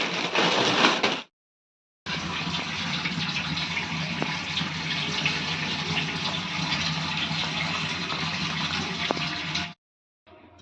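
Tap water runs steadily from a kitchen faucet into a bowl of soya chunks set to soak, a continuous close rushing stream that briefly stops and restarts near the end, with no talking.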